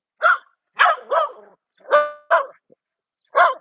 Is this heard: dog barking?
yes